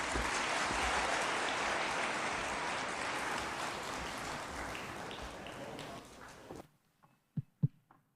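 Audience at a Katiba Day commemoration at KICC in Nairobi applauds His Excellency, sustained hall-filling clapping that gradually fades and stops abruptly, followed by a few isolated soft thumps in near silence.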